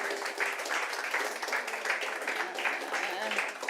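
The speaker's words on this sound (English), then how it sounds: "Last round of applause for Nicola." An audience at a barista championship regional heat in Cardiff applauds, dense continuous clapping from a moderate-sized crowd at a steady level, with voices mixed in.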